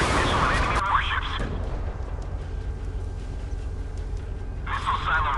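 Missile launch at enemy warships in a naval combat video game, a booming rumble under game sounds and a continuing low roar, with a radio-style voice talking at the start and end.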